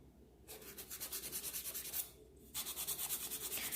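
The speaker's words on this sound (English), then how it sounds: "I'm using a 100-180 grit. This is the nail file that I am accustomed to" A 100-180 grit nail file is drawn over stiletto nails in quick, close, rhythmic rasping strokes, about two a second, with a short pause midway before the steady scraping resumes.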